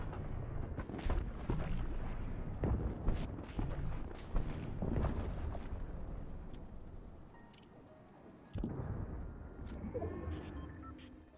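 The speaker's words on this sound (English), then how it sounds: "Gunshots to our left." Gunfire rings out in a video game match, a series of sharp booming shots and cracks at irregular intervals, some loud and others more distant, followed by quieter clicks.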